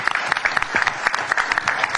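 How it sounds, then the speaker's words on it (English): Scattered audience applause at a boxing press conference, distinct individual claps from a modest crowd sounding close and fairly loud in an irregular patter. "Can we get a round of applause for this young man?"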